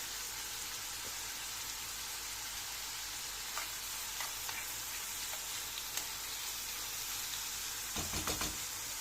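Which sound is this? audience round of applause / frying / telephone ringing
frying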